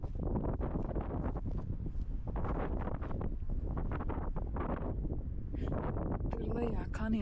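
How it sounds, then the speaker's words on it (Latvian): Strong wind in the Arizona desert buffets the microphone in continuous heavy gusts, a loud roaring rumble throughout with rustling bursts layered on top. "Kāds vējš."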